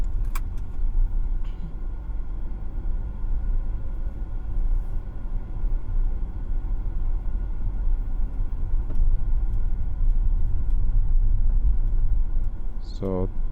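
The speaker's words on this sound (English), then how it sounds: "just driving slowly to make sure that I do not get stuck on the sand here." A car creeps slowly along a sand dune trail at Lancelin Sand Dunes near Perth, Australia, with a continuous low engine rumble from inside the cabin while a voice talks over it.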